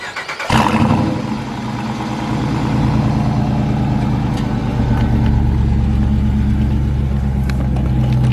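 A 2017 Dodge Charger Daytona R/T engine cranks and fires with a sharp, loud burst, then settles into a deep, steady idle heard up close and alone.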